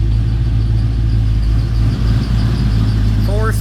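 Chevy square body truck engine with a rebuilt alternator idling steadily and warming up, a close low rumble running throughout.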